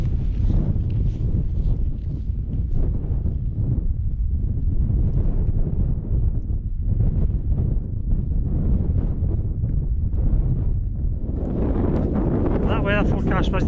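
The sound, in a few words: high wind at Benvane mountain summit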